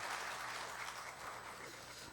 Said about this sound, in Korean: 네, 큰 박수 쳐주세요.